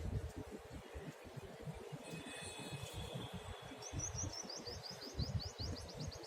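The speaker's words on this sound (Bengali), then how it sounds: "পায়রা, চড়াই সব ঘোরে, দেখতেও ভালো লাগে।" Small garden birds, pigeons and sparrows, give faint high chirps and a quick run of tweets in the later half, thin and somewhat distant over a steady low rumble.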